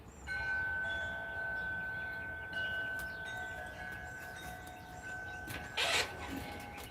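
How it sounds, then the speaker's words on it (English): Wind chimes stirred by a light breeze on a bright, sunny morning ring with sustained, overlapping tones, then a brief brighter flurry of tinkling near the end, over soft outdoor background noise. "It'll tickle the wind chimes just a little."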